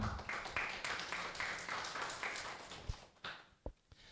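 Audience applause for Professor Trang at a hybrid university lecture session, modest clapping in regular bursts that thins out into a few scattered claps and taps, fairly faint.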